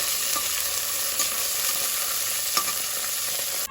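Mustard seeds, cumin, chana dal, urad dal and curry leaves sizzling steadily in hot oil as a vangibath tempering, with occasional scrapes and clicks of a spoon stirring through the pan, continuous and close.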